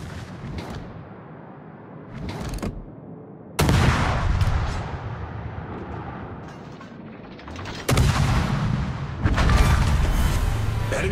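Heavy naval guns boom in a warship battle game, with repeated loud blasts and rolling explosions, some in sharp bursts that layer over one another up close.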